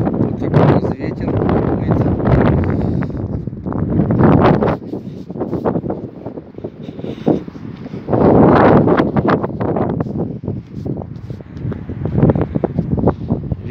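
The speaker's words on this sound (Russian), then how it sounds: "Вот такой у нас ветер." Strong outdoor wind buffets an unshielded camera microphone, producing a loud, continuous low rumble with gusty surges that swell and ease over about fourteen seconds, with no other clear sounds.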